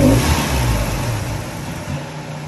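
A Mazda Miata with a stage one turbo engine revs briefly and then stumbles, the loud close engine sound sagging and fading over a couple of seconds.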